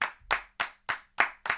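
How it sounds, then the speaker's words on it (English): Six sharp hand claps sound close and dry, spaced roughly evenly in a quick, slightly uneven rhythm, with near silence between them. "Can we give Albert Pujols a round of applause?"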